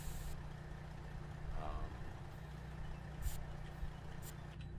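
Engine of a modded Peterbilt 389 truck in American Truck Simulator, a steady low droning rumble at close range that holds throughout, with a few brief higher hissy bursts over it.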